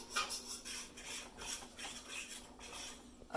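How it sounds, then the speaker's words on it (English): A metal fork stirs and scrapes food in a cooking pan during a quick keto meal: close, quiet rhythmic scraping and rubbing strokes against the pan, repeating steadily with no talking. "I'm cooking with a fork"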